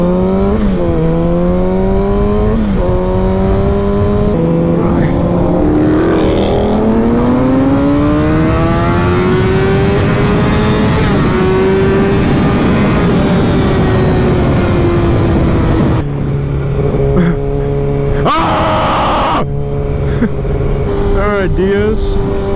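Car from the DS team passing by in eco mode on a street ride: an engine tone that rises and falls as it approaches and passes, with voices talking nearby and a choppy stretch near the end.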